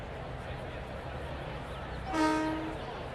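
A diesel train horn sounds once from a Long Island Rail Road train on the Hempstead to Penn Station run in Train Sim World 6, a short, steady, tonal honk rising above the low rumble of the cab.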